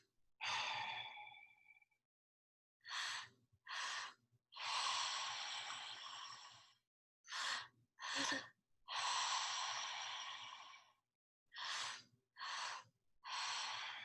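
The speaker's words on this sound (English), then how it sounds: "Belly, heart, exhale as we return to nasal breath." Deep yogic breathing in a calm session: several long, forceful breath cycles, each a quick two-part inhale into belly and chest followed by a drawn-out exhale through the mouth, close and clear with no talking.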